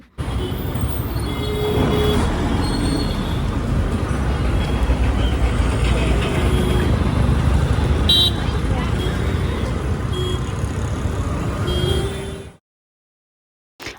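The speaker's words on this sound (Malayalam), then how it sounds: "രാത്രിയായപ്പോൾ മൈസൂർ സിറ്റി ഉണർന്നു കേട്ടോ. ഭയങ്കര തിരക്കും വണ്ടിയും ബഹളും." Busy night street traffic in Mysore city, with a steady roar of passing vehicles, occasional horn toots and engine noise close by, a voice speaking over it, before the sound cuts out abruptly near the end.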